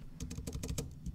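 Rapid run of keystrokes on a computer keyboard, about eight distinct clicks over a second, close and fairly loud with no voice.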